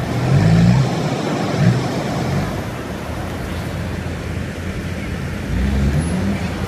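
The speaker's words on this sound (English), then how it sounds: "Plenty of traffic" Road traffic in Llangollen passes close by, a loud continuous rumble of cars and heavier vehicles with engines surging and fading, including a low droning pass near the start and another near the end.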